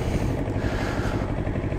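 A 2025 Moto Morini Calibro Bagger 700cc motorcycle engine runs with a steady, close, low rumbling drone throughout, with no voices over it.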